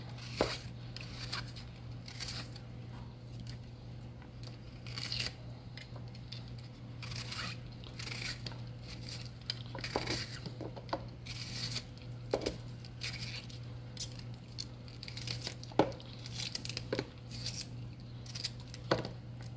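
Food is cut up beside pan-seared pork chops, giving faint, irregular snips and crunchy cuts with small clicks scattered throughout over a steady low hum, close by and without talking.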